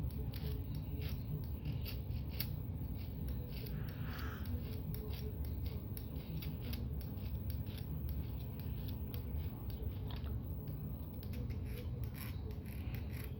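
Filing an eyeglass lens edge smooth, a steady low scraping rasp running continuously throughout at moderate level, close by, with no clear pauses between strokes.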